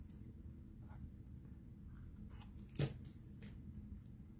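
Scissors cutting paper card for a crafted alphabet baby card, a few faint soft snips with one sharper, louder cut in the middle, heard close in a quiet room.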